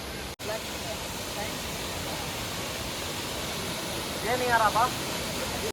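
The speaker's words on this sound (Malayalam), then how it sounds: "താഴെക്കൂടെ വെള്ളം ഒഴുകുന്നുണ്ട്" Steady broadband rush of flowing water running over rocks below a path in Idukki, Kerala, continuous throughout with a brief chirpy sound near the end.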